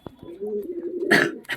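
A held pigeon gives a short low coo up close, followed by brief rustling or scuffing noises from handling.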